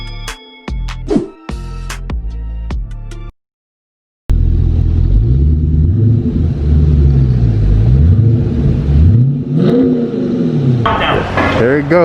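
Dodge Challenger ScatPack with a custom exhaust setup, loud close-up engine revving and rumbling after a few sharp bursts and a brief silence, the pitch rising and falling through repeated revs with voices talking over it.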